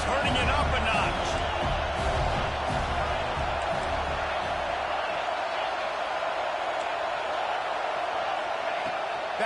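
A stadium crowd roars in a college football video game, Alabama against Penn State, a loud continuous wash of cheering with a commentator talking over it throughout.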